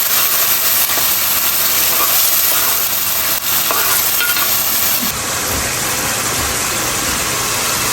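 Onion paste frying in a pot while nihari cooks, a loud continuous hiss of frying and steam with a shift in tone partway through, no voices.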